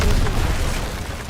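A loud, close explosion rumbles in the Call of Duty WW2 video game, a heavy booming blast with a dense low roar that slowly fades.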